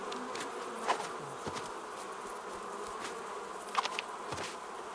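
A swarm of bees in The Cub, a post-apocalyptic game, drones steadily throughout at moderate level, with a few brief louder swells rising above the constant buzzing.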